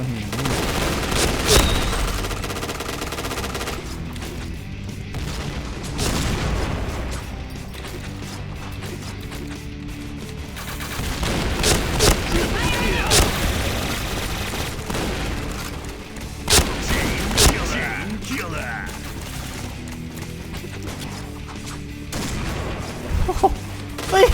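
Gunfire in the shooter game Point Blank, with bursts of automatic fire, single shots and crashing impacts repeating in clusters at varying loudness over a long stretch, dense near the start and again in the middle.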